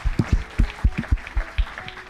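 Audience applause during a talk show, a small group clapping in a loose, uneven rhythm, fairly close and moderate in volume.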